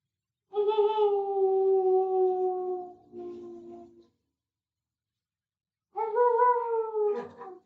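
A dog gives a long, steady howl, then a shorter lower tail, falls silent, and starts another rising howl near the end, close up in a quiet indoor room.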